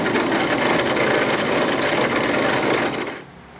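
A Dremel rotary tool with a wearing grinding stone cuts into metal on a Sogzilla wave mod, a loud, steady high-pitched grind that runs for about three seconds, then cuts off abruptly.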